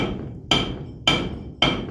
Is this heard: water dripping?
no